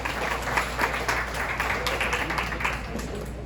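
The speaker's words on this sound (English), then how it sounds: "A round of applause, please." Audience applause at a send-off event for the Philippine women's futsal national team before the AFC Asian Cup qualifiers in Uzbekistan, a steady, moderately loud wash of clapping with faint talk underneath.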